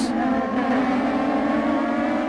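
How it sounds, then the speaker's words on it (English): Toyota Atlantic race car at a road course climbing a hill under acceleration, a loud, steady high-revving engine whine held close throughout the brief moment. "as you come up the hill and up through the gears"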